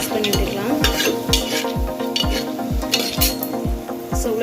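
Urad dal and chana dal are stirred while frying in a pan for rice upma, making a loud, even rhythm of scraping strokes about twice a second over a constant sizzle, with no talking.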